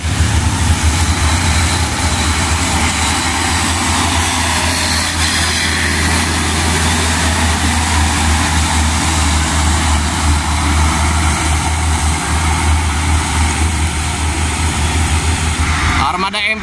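Three Hino 500 FM 260 JD trucks of a transport fleet idle nearby in heavy rain, a steady low diesel rumble with constant hiss over it, continuous throughout.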